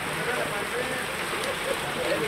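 Heavy Sunday-evening rain falls on Kollapur, a dense, even hiss of downpour with no break.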